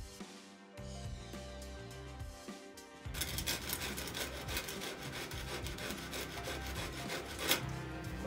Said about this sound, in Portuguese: a gente lixa onde?